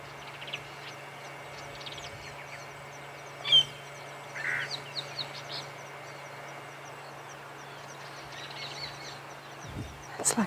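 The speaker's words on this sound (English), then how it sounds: "let's just listen to the bird calls around us" Many birds call at sunset on a safari, a dense scatter of chirps and whistles near and far over a steady low hum, with an occasional louder call standing out.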